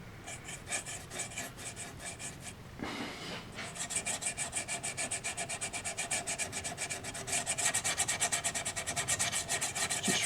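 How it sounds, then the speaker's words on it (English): Steady rubbing of a brush or cloth working a dark grey wash into the wood grain of a Faller kit model bridge's running boards, with close, rhythmic rasping strokes, a brief pause near the third second, then continuous scrubbing. "Just really rub it into the grain."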